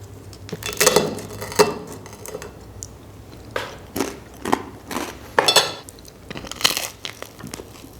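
Crunching bites into a crispy Egyptian hawawshi, a meat-filled street-food sandwich: several loud, separate crackling bursts spaced a second or two apart, with faint clinks of cutlery between them.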